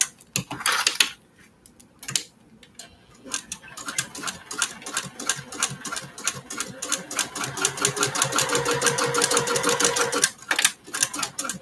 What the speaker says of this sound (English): And we are stitching the outer edges.